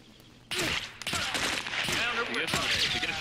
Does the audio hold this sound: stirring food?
no